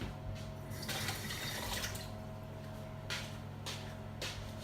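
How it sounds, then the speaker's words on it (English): Running tap water in a kitchen as hands are washed clean of pepper seeds, a soft steady stream with small splashes and drips, faint and alone. "I'm going to quickly wash my hands from all the seeds."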